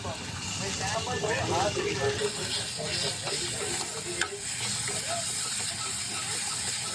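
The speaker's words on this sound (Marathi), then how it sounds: "मी आता टाकते छो थोडस अद्रक लसूणची पेस्ट आणि आपला घरचा काळा मसाला" Ginger garlic paste and homemade black spice mix frying in a hot pan, giving a steady close hiss and sizzle with stirring scrapes throughout, loud and continuous.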